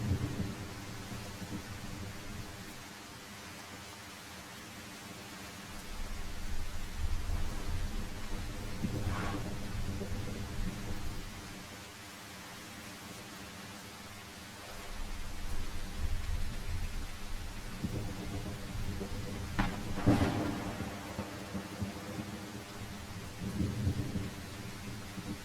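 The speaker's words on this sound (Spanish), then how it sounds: "Es muy difícil ver con esta cantidad de lluvia" Heavy rain with rolling thunder in the survival game The Isle: a steady hiss of rainfall, with thunder rumbling in several swells and one sharp nearby crack near the end.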